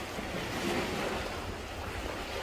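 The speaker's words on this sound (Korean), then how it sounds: "바람이 이쪽에서 불었어요" Wind blowing at the sea during a fishing outing, a loud steady rushing roar buffeting the microphone, with surf-like noise mixed in and no talk.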